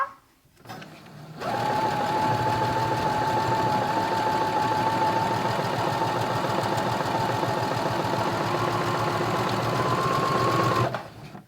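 A Brother CS10 sewing machine runs steadily for about ten seconds, stitching stretchy t-shirt jersey, its fast mechanical whir loud and close, starting abruptly after a brief quiet and stopping at the end.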